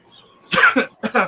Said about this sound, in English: I apparently am just coughing everywhere